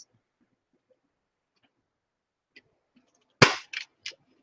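A corner rounder punch bites through paper corners on a thick notebook insert, giving one sharp close snap followed by a couple of smaller clicks after near silence.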